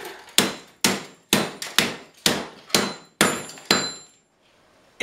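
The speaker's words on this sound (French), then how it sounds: "Lunettes de protection, une enclume, un bon marteau." A good hammer rings on an anvil as metal is worked into a round shape, about nine sharp, evenly paced blows with bright metallic decay, close and loud, then a short quiet pause.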